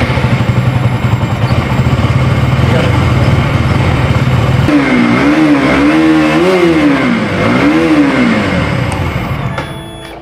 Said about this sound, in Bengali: এবারে আপনাদেরকে বাইকটাকে একবার স্টার্ট করে দেখাচ্ছি